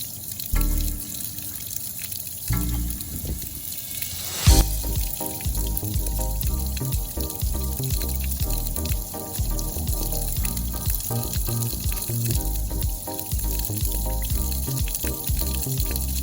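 Water drains steadily from a flooded 1978 Cajun bass boat, a continuous rushing, trickling flow that holds an even loudness throughout with no voices.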